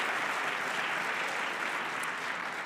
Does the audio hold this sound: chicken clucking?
no